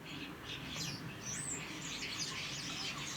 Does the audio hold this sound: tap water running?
no